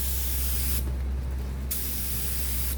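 Close, steady hiss of a spray gun misting dye across the back of a leather belt, broken by one short pause midway.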